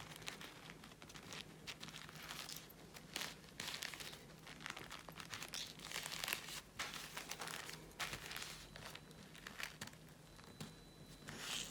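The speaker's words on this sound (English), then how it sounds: "once you've got that in quarters, is to fold that into thirds" Coffee filter paper crinkles and rustles close by as it is folded into thirds, with soft irregular crumpling and creasing throughout. The sound is quiet and comes without talk.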